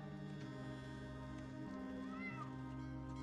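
A cat meows once in a scene from the TV series Dead Boy Detectives, a short mid-range cry set against a steady bed of background music with no talking.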